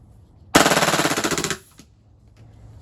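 An airsoft gun firing fully automatic, a loud, close burst of rapid evenly spaced shots lasting about a second, then fading as the gas runs low, with quiet around it.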